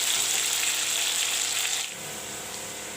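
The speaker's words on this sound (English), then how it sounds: "Let the potatoes fry." Potatoes frying in a pan with turmeric powder, a continuous close hiss and sizzle that drops to a softer simmer partway through, with a brief clatter at the end.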